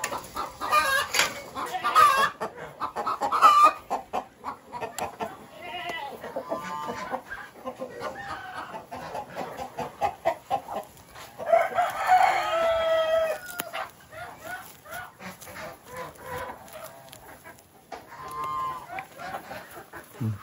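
Several farm chickens cluck and chatter close by as they are fed vegetable scraps, with a rooster crowing partway through, busy and continuous farmyard calls.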